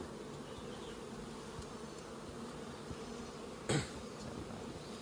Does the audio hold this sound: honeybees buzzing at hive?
yes